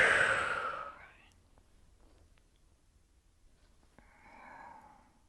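Audible breathing during a slow cat-cow yoga flow: a strong, close exhale at the start fades away, then a quiet pause, and a softer breath comes in about four seconds later.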